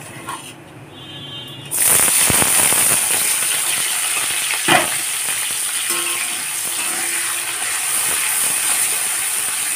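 Chopped onions dropped into hot white oil in a kadai burst into a loud, sudden sizzle after a quieter start, then settle into a steady, bright frying hiss, with a brief clink partway through.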